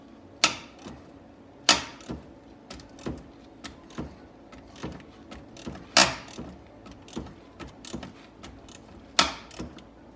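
A wrench works a rusty, sticky bolt on a 2010 Sebring during a battery replacement, giving a series of sharp metallic ratchet clicks and knocks at an uneven rhythm, close and fairly quiet with no talk.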